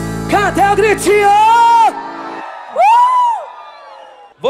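Loud whoops and drawn-out shouts at a live music show, close and forceful, coming in a few bursts separated by short pauses.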